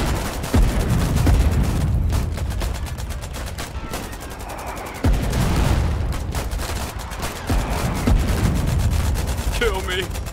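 Artillery guns fire shells in the war game Foxhole, heavy booming blasts landing every few seconds over a constant rumble of distant gunfire and battle noise.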